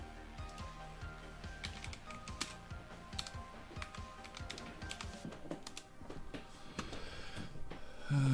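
Quick, light clicks from a computer keyboard run steadily through the stretch, close and fairly quiet, with a faint hum underneath and a soft thump at the end.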